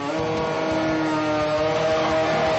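A high-revving race engine making about 590 horsepower at 8,500 rpm, running on pump gas at around 9-to-1 compression, roars continuously and loudly up close, a dense, buzzing drone with no one talking.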